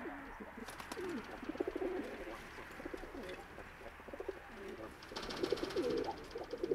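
Young pigeons in an aviary coo softly and repeatedly in low, rolling phrases, several birds overlapping at a quiet level.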